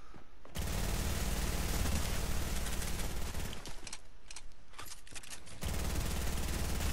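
Sustained automatic gunfire in the battle royale game Fortnite, a loud, dense rattle of rapid shots running nearly nonstop for several seconds with brief breaks.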